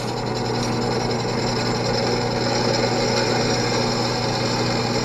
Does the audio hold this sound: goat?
no